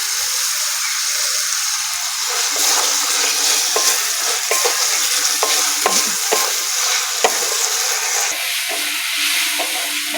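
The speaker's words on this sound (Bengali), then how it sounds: "টমেটো আদা রসুনটা ভালো করে ভেজে নিয়েছি" Chopped tomato, ginger and garlic fry in a pan with a continuous close sizzle, while a spatula scrapes and taps against the pan in a loose, repeated stirring rhythm; no one speaks.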